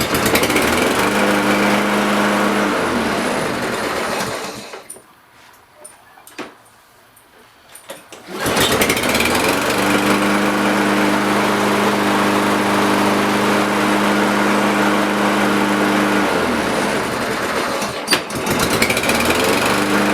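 A Kohler lawn mower engine, after a recoil-pull repair, runs with a loud, steady close-up rattle, cuts out briefly to near silence, then restarts and keeps running evenly.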